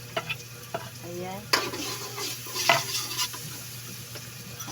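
Garlic and onion sizzle in hot oil while being stir-fried for butter pork, a steady frying hiss with spatula scrapes and stirring clatter, and a brief spoken word near the start.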